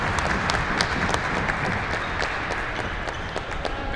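A crowd at a world doubles racquets championship breaks into loud, sustained applause after a long rally, dense clapping holding steady throughout, with a faint voice underneath.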